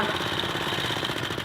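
A vintage motorbike engine, started by pedalling like a bicycle while in gear, chugs with a rapid, loud, close hammering beat that keeps up evenly through a brief burst.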